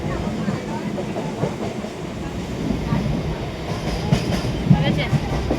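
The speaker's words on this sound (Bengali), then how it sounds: "ট্রেন যাচ্ছে" Train running on the rails near Bidhannagar, a steady, crowded rumble with faint wheel clatter throughout and a few sharper metallic clicks late on, no clear talk over it.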